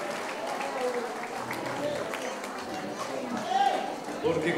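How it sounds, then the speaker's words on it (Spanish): A school end-of-year party crowd applauds children from two classrooms after their performance based on the film Coco. Dense, steady clapping is mixed with cheering and chatter, swelling louder near the end. "¡Fuerte el aplauso para ellos!"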